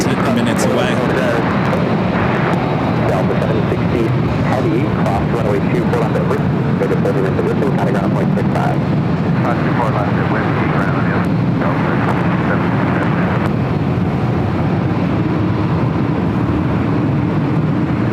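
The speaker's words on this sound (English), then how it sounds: "Flight 11, the A380 Super, landing on the south side." An Airbus A380 lands on the south side of Los Angeles airport, a loud, continuous broadband jet roar that fills the whole stretch, with a voice talking over it.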